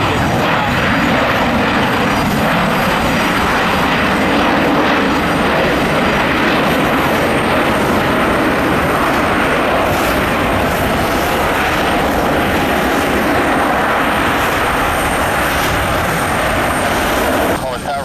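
A Southwest jet airliner roars through its takeoff run, a loud, sustained engine rumble with a rising whine that holds for the whole stretch, while speech runs underneath.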